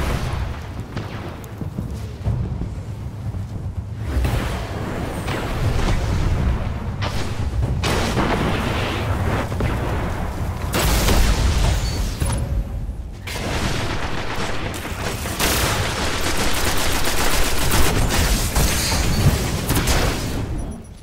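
Mortar explosions in the video game Destiny go off in a dense, continuous barrage of heavy booms and blasts, loud and close, with repeated surges over about twenty seconds.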